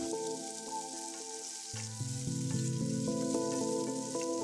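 Bacon lardons sizzle in sunflower oil in a pan over high heat, a steady close crackle that swells as the pan is stirred.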